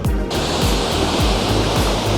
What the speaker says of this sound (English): we have made it to the Pacific Ocean, guys.